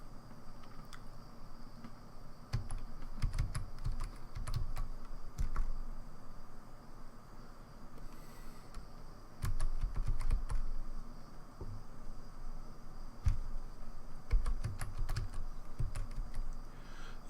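Steady rapid keystrokes on a computer keyboard while a login and password are entered for a Raspberry Pi Zero W, close and continuous with brief bursts of heavier tapping, no voices.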